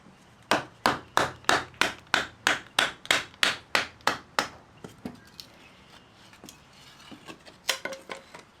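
A Mora Companion knife is struck through super dry firewood at a riverside camp in the rain. About a dozen sharp, evenly spaced knocks ring out close by, then a few scattered lighter taps and cracks follow.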